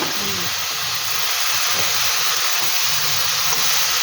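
Banana flower frying in a wok for a Bengali banana-flower and chickpea dish gives a steady, close, hissing sizzle with a faint steamy wash that holds even throughout.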